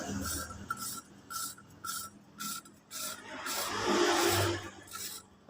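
Steady gritty rubbing and rasping of an engine valve being hand-lapped against its seat, close up, in repeated short strokes that blend into a longer continuous grinding scrape.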